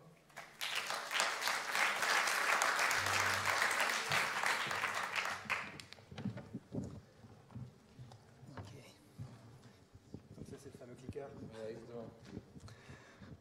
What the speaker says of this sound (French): je vous propose d'applaudir Jérôme Gavin